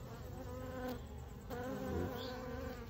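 Honeybees buzz steadily at a hive landing board on an autumn afternoon in November, a dense continuous drone of many insects close to the microphone.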